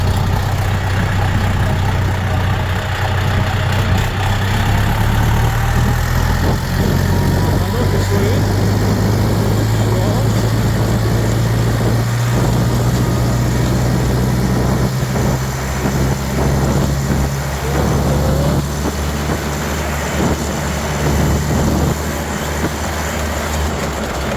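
A DTZ 40-horsepower tractor drives over a pit, its engine a loud steady drone whose pitch slowly climbs and falls, with rattles and bumps over the rough ground and a voice talking over it.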